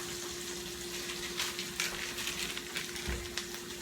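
Onions saute in a pan for a soul food meal, giving a steady close crackling sizzle with a faint constant hum behind it and no voices.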